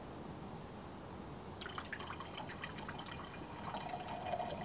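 Hydrogen peroxide is poured into hydrochloric acid etchant, heard as a faint, steady trickle of liquid that begins partway through and continues to the end, quiet and close, with no talking.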